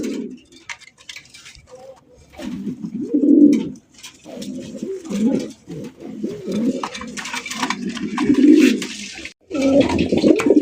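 A pair of jet-black Mukhi pigeons coo at a pigeon farm, giving repeated low, throaty calls in close, rhythmic bouts with brief pauses between them.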